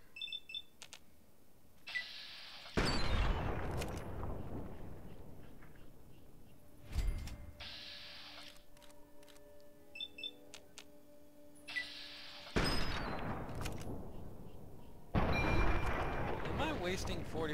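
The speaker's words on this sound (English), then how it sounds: "Yep, I got the Lincoln repeater out. That was such a waste of bullets, but it killed him quick" Lincoln repeater rifle shots ring out against mole rats in Fallout 3, several sharp blasts with fading tails spaced a few seconds apart, mixed with game clicks and beeps while someone talks.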